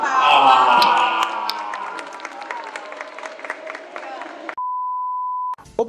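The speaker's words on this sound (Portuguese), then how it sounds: "Uma salva de palmas." A crowd at an Anime Friends convention panel with Cybercop voice actors applauds and cheers loudly, fading over several seconds, then cut off by a steady electronic beep tone.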